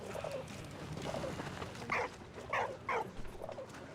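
A dog in the World War I video game Valiant Hearts: The Great War gives a few short yips and barks in quick succession, moderately loud over soft game ambience, with no talk.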